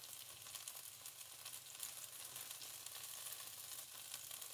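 Steaks sizzle steadily in a hot pan as they are laid on a bed of onions, a dense, even crackling hiss close by with no talking.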